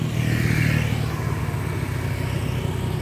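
Motor traffic on a road in Thailand, a steady engine hum with a mid-pitched motorcycle revving up nearby before settling into a continuous drone, no voices over it.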